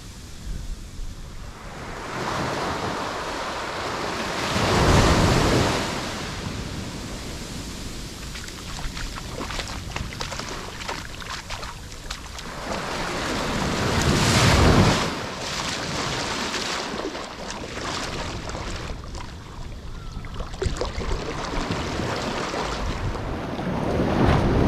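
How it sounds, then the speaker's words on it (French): Ocean waves surge ashore at high tide on a tropical Thai beach, two big swells rising and crashing around five and fifteen seconds over a constant roar of surf and wind buffeting the microphone. "les vagues sont plus hautes."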